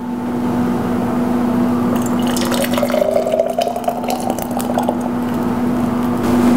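Pomegranate caramel sauce with seeds poured from a pan into a heat-proof container, a close, brief wet dribbling and splattering over a steady low kitchen hum, with no talk.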